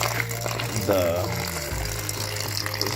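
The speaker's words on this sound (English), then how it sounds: "I'm just going to run my faucet into it, and I'm going to just get this substrate nice and damp" Tap water runs from a kitchen faucet into isopod substrate, a steady close rush and splatter that lasts throughout, with a brief gurgle partway through.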